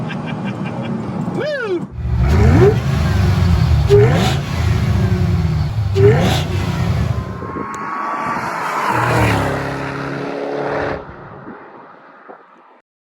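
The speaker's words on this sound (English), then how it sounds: "2007 Saleen Mustang Supercharged Extreme" A supercharged 2007 Saleen Mustang Extreme roars loudly up through several gear changes with rising revs, then drops back to a lower drone and fades out, with a brief shout at the start.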